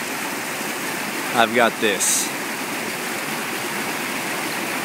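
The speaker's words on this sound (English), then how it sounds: "This creek" A mountain creek near a campsite on San Gorgonio flows with a steady, full rushing wash, close by and constant, while someone briefly speaks over it.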